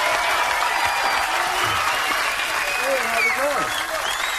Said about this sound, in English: So let's give a big round of applause to our winner, Jamil Hassan.